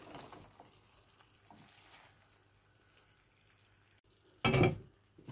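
Taro stolons (kochur loti) go into a frying pan with shrimp, mango and olives: faint sizzling and light clatter, then one loud, short burst of frying and scraping near the end.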